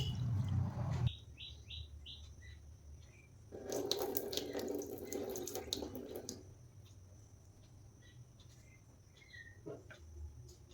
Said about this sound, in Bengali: প্রথমে এখানে আমি চিড়েটা ভালোভাবে ধুয়ে নেব।